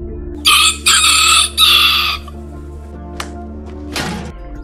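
A rooster crows loudly and close by, three strong bursts in quick succession, followed by a few faint clucks and a short lower call.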